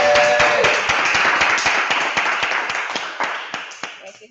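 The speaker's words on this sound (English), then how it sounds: "let's give Kashima another round of applause" Small audience at a school final presentation applauding a student after her monologue, a loose crowd of claps with distinct sharp hand strikes, a faint voice underneath, gradually thinning out into a few scattered last claps.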